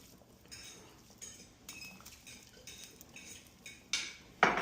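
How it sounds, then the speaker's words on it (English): Chopped vegetables added to a pot with oxtail for beef stew, heard as faint scattered clinks and scrapes of a utensil on metal that end in two sharper, closer knocks. "Now we're gonna put this into the pot together with the oxtail."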